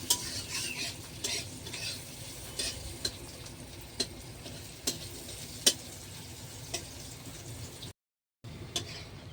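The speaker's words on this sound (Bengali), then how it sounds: "পেঁয়াজটা লাল লাল করে বেরেস্তার মতো ভেজে নেবো" Onions frying in oil until deep browned and crisp like birista, a steady low sizzle broken by a spatula scraping and stirring the pan every second or so.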